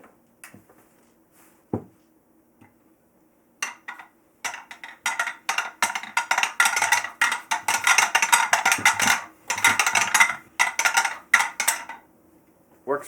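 Wooden toy push lawn mower rolling along, starting with a few isolated clacks, then a sustained rapid rattling and clattering of wooden parts with brief pauses, close and fairly loud.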